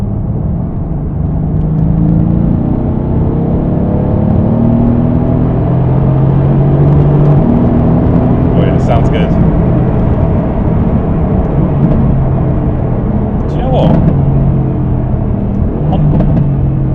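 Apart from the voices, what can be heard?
Mercedes AMG GT car accelerating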